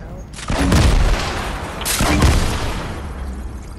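Two bursts of booming explosions and gunfire in the video game Fortnite erupt in quick succession, loud and close, with a rumbling tail after each blast.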